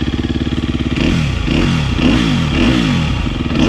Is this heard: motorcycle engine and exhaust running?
yes